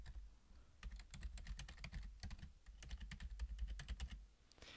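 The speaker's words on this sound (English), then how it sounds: "And now type in your name, and type in your email address." Rapid, uneven typing on a computer keyboard while entering account details in Outlook 2010, with close, crisp keystrokes in dense bursts and brief pauses, no voice.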